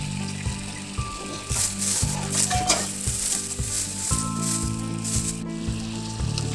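Spices being sautéed in a pan for a doi katla fish curry, a loud steady sizzle with rhythmic scraping and rattling strokes of a spatula, close up, with a faint tonal hum underneath.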